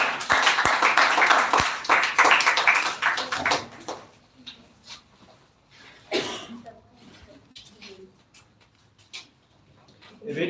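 An audience at a school computer-education speech event claps for the next speaker for about three seconds, a dense burst of hand claps that dies away into a quiet room with scattered taps and faint voices.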